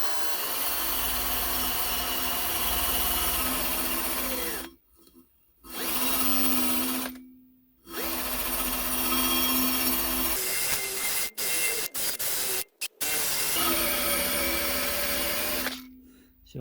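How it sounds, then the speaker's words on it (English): Angle grinder grinding rust and stubborn paint off the back edge of a steel part clamped in a bench vise, a loud continuous whine broken by several short pauses and brief stops. "I want to try and grind away as much of the rust and paint as I can on this back edge"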